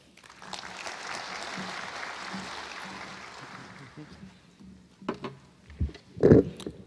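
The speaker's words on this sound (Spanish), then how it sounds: "para quien les pido un fuerte aplauso" Sustained applause from an audience at a medical talk on cardiovascular risk for several seconds, fading out, followed by a few bumps and handling noises near the microphone.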